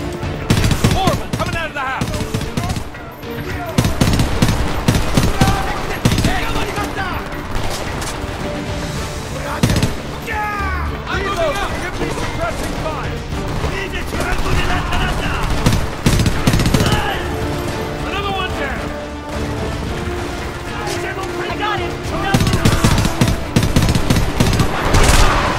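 Heavy automatic gunfire and scattered explosions from the Homefront video game battle rage continuously, dense and loud, with shouted voices mixed in under the shooting.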